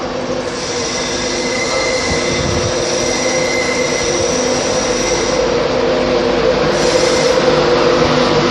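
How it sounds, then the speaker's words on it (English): A Class 91 electric train passes close by at York on the East Coast Main Line with a steady, loud rumble and a high whine, wheels clattering faintly throughout. "I prefer the 91s because they make a hellfire sound."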